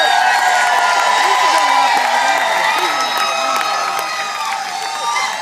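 Crowd at an outdoor Texas Reloaded event cheering, whooping and applauding steadily, with scattered shouts over a dense roar that eases slightly toward the end.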